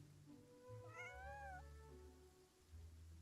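A cat meows in the video game Genshin Impact, giving one drawn-out rising and falling call over a steady background of rain.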